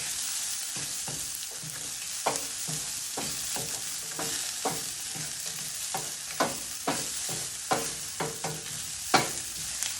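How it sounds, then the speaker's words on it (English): Sliced chilies stir-frying in a hot wok or pan for kung pao tofu: a steady bright sizzle with repeated scraping clacks of a spatula tossing them, close and loud throughout, no talking. "and also our sliced chilies. And these will cook really quickly."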